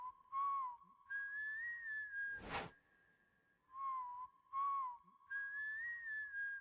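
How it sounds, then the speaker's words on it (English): A melodic whistle opens a music video, a bright two-phrase tune repeated twice. A sharp whoosh sweeps between the two passes, and the whistle sounds clean and prominent with no talk over it. "I swear that whistle was my notification tone for like a year."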